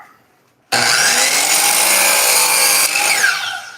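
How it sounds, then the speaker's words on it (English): A power saw cuts a 60-degree bevel into a wooden lid. It starts suddenly after quiet and whines loudly and steadily through the cut, then tapers off at the end. "I'm gonna cut that 60-degree bevel, coming about an 1/8 inch up from the bottom."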